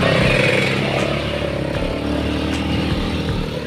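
A Ford Raptor truck pulls away on a muddy road, its engine a steady loud rumble that carries through the whole stretch without pause. No one speaks over it.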